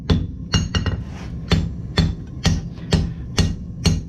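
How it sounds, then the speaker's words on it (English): Soft blacksmith hammer blows on hot metal for shaping, about nine to ten sharp ringing strikes in a loose, steady rhythm, close and clear over a low background hum of the forge. "So I'm going to hammer soft,"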